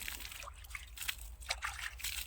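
Irrigation water trickles and sloshes steadily close by in an onion field, with brief splashy surges; no voices.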